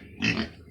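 A pet pig gives a short, soft grunt close by, a single brief snort-like oink.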